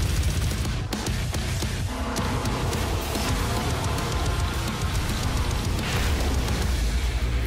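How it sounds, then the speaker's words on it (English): A big explosion in DOOM Snapmap, a dense, loud rumbling roar sustained for several seconds with crackling bursts layered in and a brief dip near the start. "Whoa, that was a big explosion."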